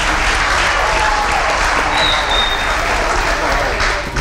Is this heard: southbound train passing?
no